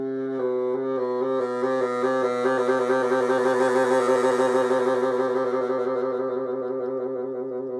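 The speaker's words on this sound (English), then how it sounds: "how to make the bassoon sound creepier is by doing half note trills" A sustained bassoon tone wavering in rapid half-step trills for a creepy effect, steady and fairly loud, with a slow swell in intensity and no voices.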